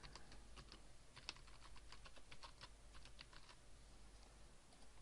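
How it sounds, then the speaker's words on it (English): Someone types a plugin name on a computer keyboard: a quick, irregular run of soft, close keystrokes with no other sound. "so I just type that in now."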